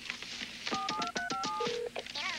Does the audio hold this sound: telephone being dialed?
yes